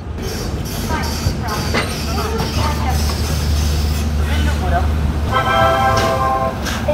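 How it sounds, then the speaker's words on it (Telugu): Low rumbling rail noise with rolling clatter as the Tirumala Express moves slowly onto a station platform, with a voice talking over it and brief tonal squeals near the end. "మనం వచ్చేసి ఇప్పుడు థర్డ్ ప్లాట్ఫామ్లోకి అయితే ఎంటర్ అవుతున్నాం అనమాట"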